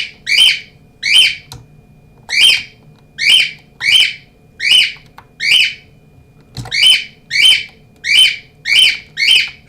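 Repeated loud, close bird calls of chirps and squawks, about a dozen bursts spaced roughly evenly with brief gaps, heard alone over faint room hum.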